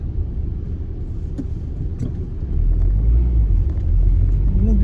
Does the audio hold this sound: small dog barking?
no